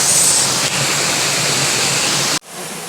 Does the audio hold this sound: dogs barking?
no